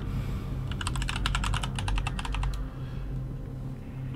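Rapid keystrokes on a computer keyboard as a login and password are entered to connect to a Battlefield game server, a close burst of clicking lasting about two seconds over a steady low hum, then stopping.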